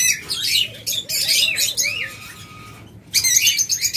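Pet lovebirds, budgerigars and cockatiels for sale, a close, busy chorus of sharp chirps, squawks and warbling calls, with a short pause before another burst; a quiet hum runs underneath.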